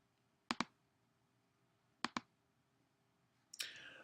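Computer mouse clicking during a course walkthrough, two quick double clicks spaced apart, sharp and close in a quiet room, followed by a brief rustling noise at the end.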